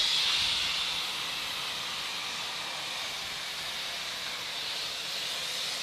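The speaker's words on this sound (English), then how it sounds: "you can enjoy the sights and sounds of a steam engine" A steam locomotive lets off a loud, continuous hiss of escaping steam, strongest at the start then settling into a steady rush, nearby and alone.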